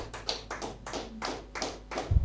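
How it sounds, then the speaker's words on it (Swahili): Church congregation clapping together, a steady series of hand claps rippling through the room, moderately loud with a brief low thump at the end. "Tumpe Bwana sadaka mzuri ya makofi"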